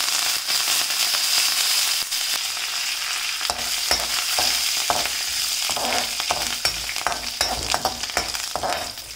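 Curry leaves and urad dal sauté in hot oil with a constant close sizzle, sharp pops and crackles, and occasional scraping stirs in the pan.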